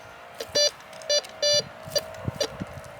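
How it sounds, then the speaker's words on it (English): A metal detector gives short electronic beeps in an irregular pattern, several bursts of a steady high tone with brief pauses, outdoors with faint background noise. "it's just beeping for no reason"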